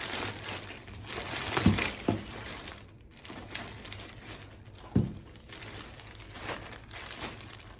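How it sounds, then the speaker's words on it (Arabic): A plastic bag crinkling and rustling as it is opened, with several sharper crackles and handling noises in a close, quiet room. "خلينا نفتح هلا الكيس الثاني ونشوف قد بدي شو فيه"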